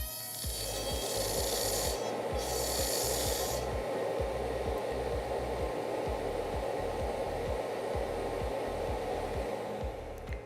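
A dental lab bur grinds a stone die in a steady, loud whirring rasp, with a fast rhythmic chatter running under a constant motor whine, close to the work.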